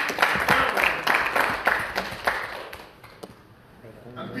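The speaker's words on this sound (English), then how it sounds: "Look at your turn, you get a round of applause" Audience applause for a speaker, a burst of many people clapping in a room with voices underneath, tapering off after a few seconds to a few scattered claps.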